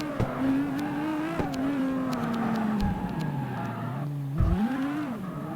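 A car drifting through corners in the CarX Street racing game, its engine note sweeping down and back up with skidding tire noise and brief clicks, continuous and close with no talk.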